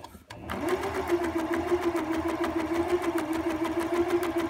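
A sewing machine runs steadily at close range, a fast even whirring hum of stitching as it sews a pocket edge directly onto the front of jogger pants, no talk over it.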